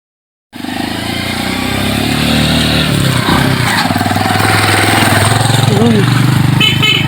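Motorcycle engine labouring up a very steep road, starting abruptly and holding a steady, loud putter close by, with a voice speaking briefly over it.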